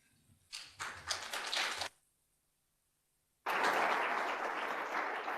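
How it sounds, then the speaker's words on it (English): Conference audience clapping in two bursts: a short, uneven spatter of applause, then about a second and a half of silence, then a fuller, sustained round of clapping that carries to the end. "We have applause even before we started."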